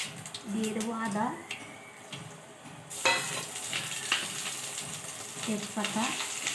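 Ginger tossed with dry red chillies and five-spice tempering into hot oil, frying for daal; a steady sizzle and stirring runs throughout with a sharper burst of hiss midway, under a person talking.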